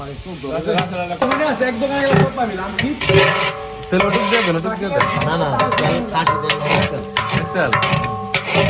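Food being stirred in hot oil for a mutton dish, with steady sizzling and a metal spoon scraping and clinking against the pot in an irregular rhythm, close and fairly loud, with voices heard faintly.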